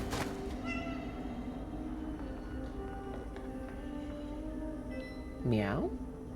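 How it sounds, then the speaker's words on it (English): A cat meows in the video game Cronos: The New Dawn, a rising harmonic call near the end that stands out briefly over a steady game background hum. "I heard a cat."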